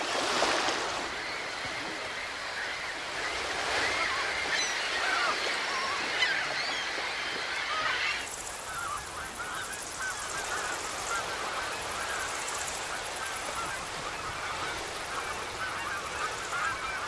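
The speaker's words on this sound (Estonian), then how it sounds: "Vilsandi looduskaitsealal pesitseb ligi 8000 haudepaari merelinde." A large colony of seabirds and geese honks on Estonian islands at Vilsandi nature reserve, a dense continuous chorus of calls over a steady wash of water and surf, with a shift in the texture partway through.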